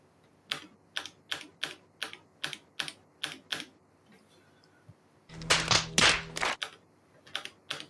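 Typing on a computer keyboard: a run of evenly spaced, crisp key taps up close, then a quick burst of faster clattering keystrokes, and a few more taps to finish.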